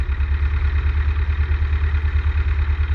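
A light aircraft's piston engine idling at 1100 RPM after coming to a full stop on the ground, a loud, close, steady low throb with an even pulsing rhythm and no talk.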